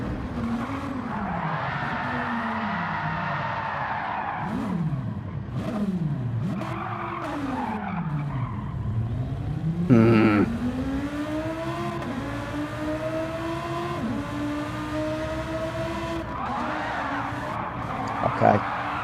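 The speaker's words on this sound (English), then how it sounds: "Drac Fury, are you trying to drift the Lamborghini?" A Lamborghini drifting in a racing video game, its engine droning and revving in sweeping pitch bends while tires squeal and skid, loud and continuous for the whole stretch, with a brief sharper burst midway.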